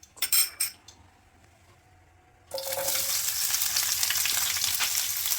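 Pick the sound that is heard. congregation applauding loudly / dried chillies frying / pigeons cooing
dried chillies frying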